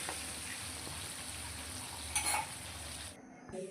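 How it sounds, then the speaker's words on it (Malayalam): Chicken pieces fry in hot coconut oil for a biryani, making a steady close sizzle with faint stirring clinks before the sizzling drops away near the end. "അപ്പോൾ നമുക്ക് ഇതേ ചിക്കൻ്റെ കഷ്ണങ്ങൾ ഇട്ട് കൊടുക്കാം. ഇനി അത് നന്നായിട്ട് നമുക്ക് വറുത്തെടുക്കാം."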